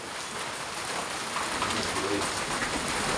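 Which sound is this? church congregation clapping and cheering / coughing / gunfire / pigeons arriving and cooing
pigeons arriving and cooing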